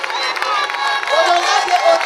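Loud crowd noise at an event in Kinshasa honoring a provincial deputy, with cheering, clapping and shouting voices blending into a continuous roar for about two seconds.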